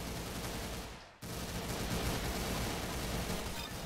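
Dense, continuous gunfire from Roblox Arsenal rattles close and loud across the clip, briefly cut out by a short dropout before resuming at full strength with no talking.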